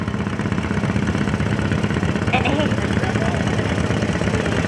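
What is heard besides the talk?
John Deere 40 tractor engine idling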